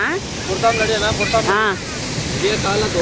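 Steady broadband rush of the Hogenakkal waterfall close by, with voices talking loudly over the roar throughout.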